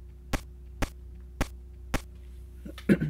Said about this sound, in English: Just a nice little drum hit.